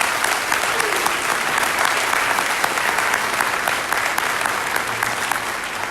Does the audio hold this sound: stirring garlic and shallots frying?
no